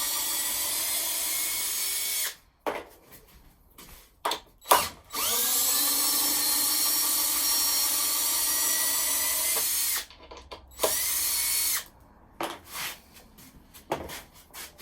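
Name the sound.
power drill unscrewing a wooden ladder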